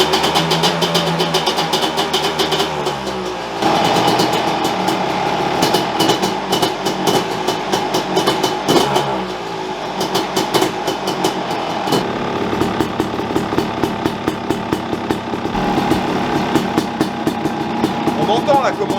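Fantic two-stroke motorcycle engine starting and idling with a rapid, uneven popping burble and occasional revs, close and loud, with someone talking over parts of it.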